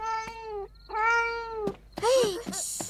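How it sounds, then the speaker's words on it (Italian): A cartoon cat meows three times in a children's animated series, each call a clear, tonal, slightly drawn-out mew, close and loud, the last one more strained and wavering. "smettila di miagolare, altrimenti sveglierai mamma e papà"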